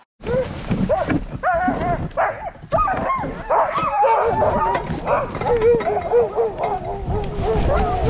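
A pack of sled dogs barks and yips almost without pause, close and loud, forming a dense chorus of overlapping calls.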